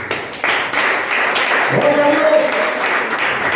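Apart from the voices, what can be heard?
church congregation applauding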